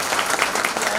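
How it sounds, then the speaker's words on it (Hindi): Brief burst of loud, dense clapping from a crowd at a staff gathering, steady and close, with no voices over it. "अब आप लोग एक बार जोरदार ताली बजाइए"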